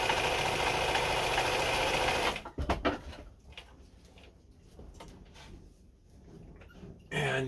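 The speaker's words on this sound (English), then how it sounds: "And you're sewing a much wider zigzag now." A restored Bernina 830 Record sewing machine running a wide zigzag stitch, a loud steady motor hum that cuts off after a couple of seconds, leaving faint clicks and room noise before it briefly starts again.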